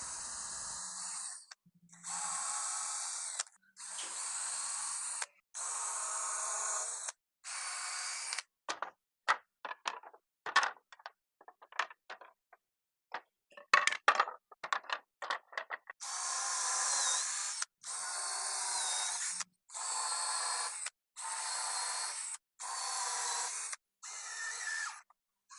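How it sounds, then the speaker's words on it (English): Power screwdriver driving screws into pre-drilled holes while assembling a porch swing bed kit, a series of steady whirring bursts with short pauses, then rapid clicky stutters, then more even whirring runs, close and alone. "All you're doing is pre-drilling holes as stated in the instructions, and then using the screws provided to get everything together."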